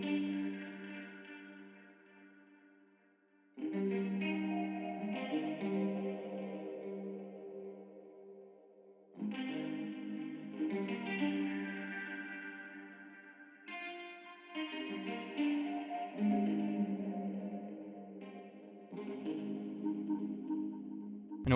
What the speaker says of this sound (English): I just used a different type of guitar for the intro just to give it a little bit more variation